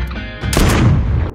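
Gunfire from sniper rifles in a tense action film scene: a sharp loud shot bursts out after a brief quiet lead-in, followed by a heavy booming rumble that lingers for about a second before cutting off.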